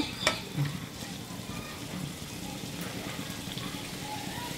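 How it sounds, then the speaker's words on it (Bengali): Spice paste frying in oil for a chicken curry, a dense continuous sizzle that holds at a fairly low, even level. "মশলাটা ভালো করে কষাই নিচ্ছি।"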